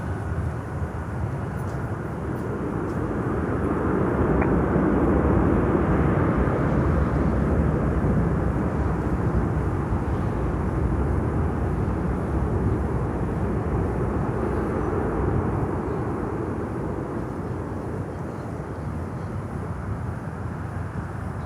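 A LATAM Boeing 767 passenger jet from Lima passes at an airport, its broad engine roar swelling and then holding steady, loud and continuous for the whole stretch with no voices over it.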